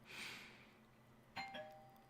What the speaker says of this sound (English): my kids be coming home ringing the doorbell like they don't have a key